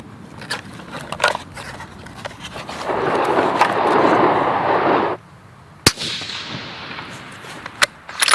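A Remington 700 SPS Tactical AAC-SD rifle fires Hornady match ammunition, one sharp, loud crack standing out against quieter rustling and handling noises.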